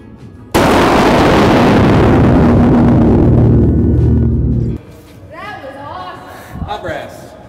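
A single massive blast from a .50 caliber rifle on a 100-yard indoor range, a deafening boom that rings and reverberates for about four seconds before cutting off, followed by a person talking.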